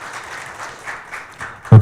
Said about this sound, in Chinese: 那我们以最热烈的掌声来感谢他们今天跟我们的说明